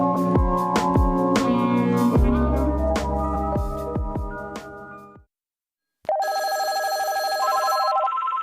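A telephone bell rings in loud repeated bursts, then after a brief silence a steady electronic tone sounds, as a voicemail begins.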